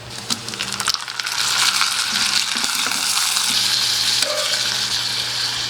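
Meat sizzles in a pan with onion and garlic, a close, steady frying hiss with faint clinks and stirring sounds near the start.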